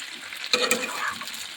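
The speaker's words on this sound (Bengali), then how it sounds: "ফুলকপিগুলো দিয়ে দিলাম মশলাগুলো কষাবো" Cauliflower florets sizzle and fry with spices in a hot pan, with a short burst of crackling and stirring in the middle of a steady low hiss.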